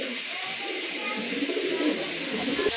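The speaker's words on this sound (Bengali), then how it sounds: "আরেক জোড়া কবুতর" Pigeons at a pigeon farm coo in a soft, steady murmur that carries through the whole stretch, with a faint voice in the background.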